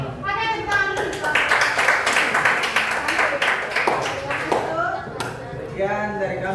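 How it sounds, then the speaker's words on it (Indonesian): A classroom group gives a round of hand clapping, dense and sustained for most of the stretch, with children's and adults' voices talking over and around it. "Oke, tepuk tangan dulu."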